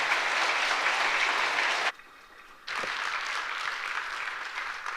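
A church congregation at a Pentecost revival service claps warmly to welcome the pastor, a steady wash of applause that breaks off briefly and then resumes.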